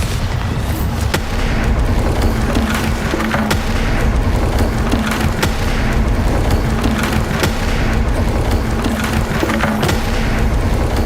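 Bombarda blasting spell explosions in Hogwarts Legacy, a series of sharp booming blasts with splintering cracks repeating at irregular intervals over a constant noisy rumble.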